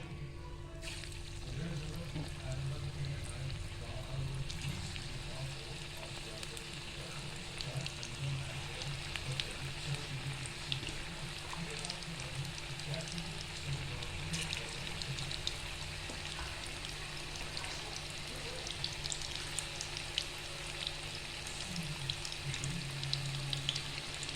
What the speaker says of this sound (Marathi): इथे आता आपलं तेल तापले, आपण त्यात सोडून घेऊया